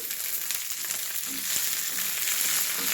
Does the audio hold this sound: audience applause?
no